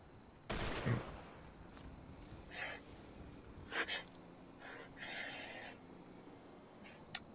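Rifle volley salute fired at a funeral in GTA 5, heard as a few sharp, fairly distant shots spaced apart over faint background noise.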